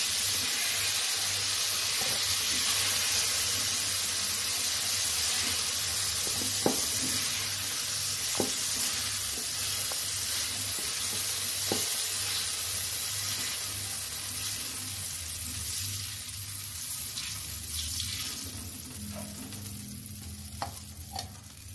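Sliced ridge gourd sautéing in oil in a pan, a continuous close sizzle and hiss with occasional spatula clicks and stirring scrapes throughout.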